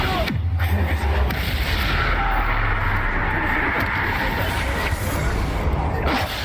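The Bombarda blasting spell in the Hogwarts Legacy video game goes off in heavy explosive booms over a continuous rumbling roar of combat, loud and close, with some game voices mixed in.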